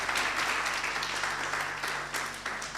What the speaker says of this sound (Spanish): Un aplauso a Jesús, ¿verdad?